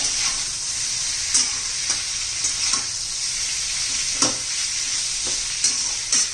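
Bitter gourd (karela) frying in oil in a kadhai until crisp, with a constant close sizzle broken by a spatula scraping and tossing it every second or so. No one speaks.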